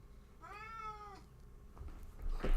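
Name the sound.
cat meowing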